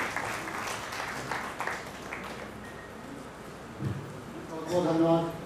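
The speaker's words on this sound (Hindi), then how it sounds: "डॉक्टर साहब की जोरदार तालियों से इनका स्वागत करें।" Sustained clapping from an audience at a Buddha Jayanti gathering, following a speech, with a voice speaking over it and the applause swelling louder near the end.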